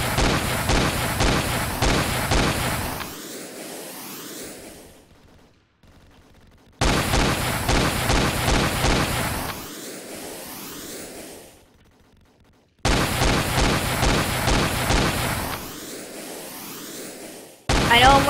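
A turret in the Roblox video game fires in rapid, loud bursts, three volleys of several seconds each separated by short quiet gaps.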